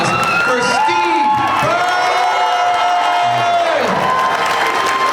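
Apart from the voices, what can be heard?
convention crowd applause and cheering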